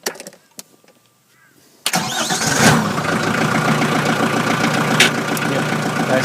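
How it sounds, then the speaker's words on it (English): A tractor engine, fitted with a rear-mount forklift and bucket, cranks briefly and then catches, settling into a loud, steady mid-pitched idle that runs without a break for several seconds. "I'll just start it up."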